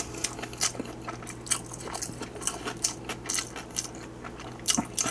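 Crisp bites and chewing of a GS25 convenience-store cheese and crab stick sandwich with cucumber, close up, several crunchy bites spaced irregularly with soft chewing between them, no talking.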